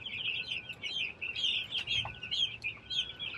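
Chickens on a farm give a steady stream of soft, high clucks and chirpy calls, fairly close, with quiet low background rumble and no talking.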